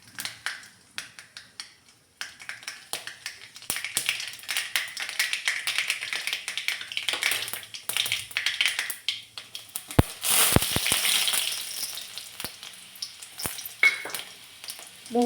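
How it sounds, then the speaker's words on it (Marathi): Mustard seeds crackle and pop in hot oil in a kadhai, a dense run of sharp close snaps over steady sizzling that grows busier midway, with no talk. "तेल चांगलं तापलं की मोहरी घातली।"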